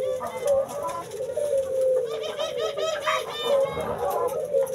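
Close, steady rolling coos come from puter doves in a small breeding cage, repeating without pause over a soft background of rustling.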